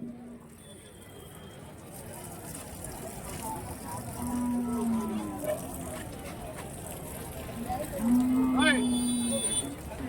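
Cattle at a busy cow market in Santhipuram, with HF and Jersey dairy cows, lowing in several drawn-out moos across the clip over a steady crowd murmur and people talking nearby.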